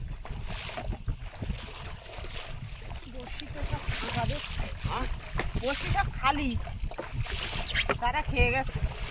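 Strong wind gusting over a river during fishing, steady blustery rumble buffeting the microphone, with people talking over it and occasional knocks from the boat.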